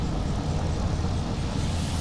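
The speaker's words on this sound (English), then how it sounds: "It sounded like there was another plane flying overhead." An airplane flying overhead, a steady, broad engine roar that holds fairly loud and unchanging throughout, with no talk.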